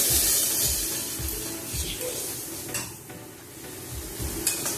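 Cumin powder mixed in water is tipped into hot oil and fried with spices for a pabda fish curry, giving a loud, steady hiss close by, with faint thumping stirs beneath it.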